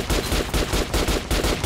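Rapid, loud automatic gunfire in the Metro video game, aimed at an armored target dummy; shots fire in a fast, even rhythm about five per second without pause.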